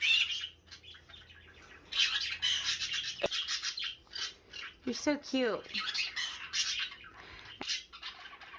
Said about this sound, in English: It's a baby bird.